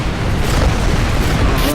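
Spaceship broadside and laser cannons pound away in the space combat game Rebel Galaxy, a dense, continuous roar of booming blasts with no pauses, loud and close throughout.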